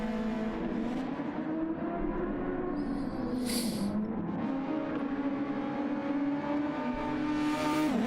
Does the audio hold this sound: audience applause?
no